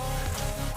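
A chicken clucks in a short, close burst over a noisy outdoor background, with no talking.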